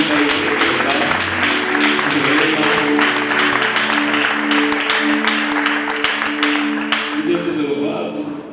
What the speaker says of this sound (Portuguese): Podemos aplaudir para ele